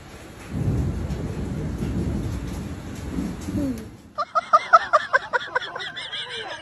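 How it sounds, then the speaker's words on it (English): A violent thunderstorm in Lao Cai, Vietnam, brings wind and heavy rain with a low, continuous thunder rumble. It then gives way to a series of sharp, rhythmic, bird-like calls. "Howling winds, pounding rain, and repeated thunder created an incredibly intense scene."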